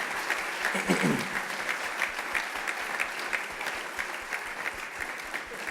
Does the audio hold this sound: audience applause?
yes